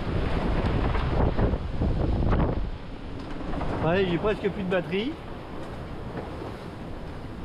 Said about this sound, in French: Ouais, il y a des bonnes vagues, regardez là.